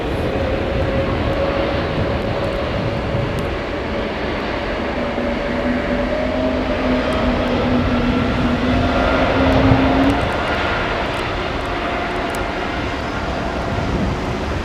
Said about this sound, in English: are you hearing those spool ups?